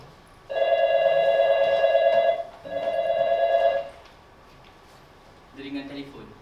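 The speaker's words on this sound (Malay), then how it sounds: "Setiap kali telefon berdering, mesti akan ada satu daripada dua kemungkinan cabaran." A telephone rings in two long electronic bursts, fairly loud indoors, followed by a quieter pause and a brief fainter tone.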